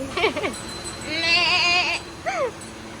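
A single goat bleats several times: two short quavering calls, then one long drawn-out bleat, and a final brief cry, all close and clear with no talking.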